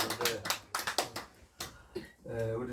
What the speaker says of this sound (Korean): 박수 한번 쳐야 되는